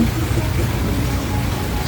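Heavy rain pours down steadily on a street, a loud continuous hiss and patter filling the scene without a break.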